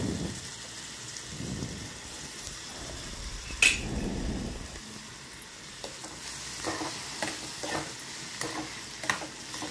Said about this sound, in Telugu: మనం చాప్ చేసి పెట్టుకున్న ఉల్లికాడ ముక్కలను కూడా వేసుకొని అవి కూడా బాగా మగ్గించుకోవాలి